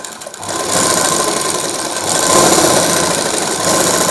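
A sewing machine stitches a designer blouse sleeve in one steady, loud, whirring run of about four seconds, starting after a brief pause.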